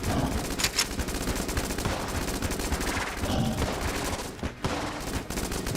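Rapid, continuous automatic fire from the high drag gun in World of Warcraft's Torghast dungeon, a dense, loud stream of shots with only brief gaps.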